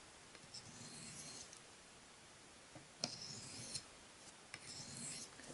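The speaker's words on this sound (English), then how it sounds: "Alright, now moving on to the fine razor honing stone." A knife blade drawn across a fine razor honing stone makes a short series of soft, rasping strokes, quiet and close, with pauses between passes and no talking.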